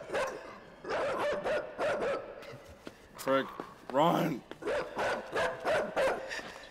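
A dog in a video game barks repeatedly in sharp yapping bursts, with a whimpering yelp in the middle, close and loud, while a player talks excitedly over and between the barks.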